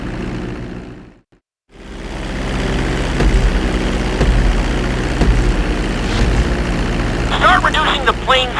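Propeller airplane engine droning steadily through a landing approach in GTA 5 flight school, a loud continuous hum after a brief drop-out, with a spoken voice over it near the end.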